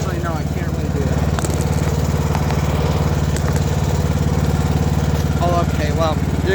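A riding lawnmower engine drones steadily and loudly as the mower is driven, with a constant rumbling putter throughout and faint scattered sounds over it.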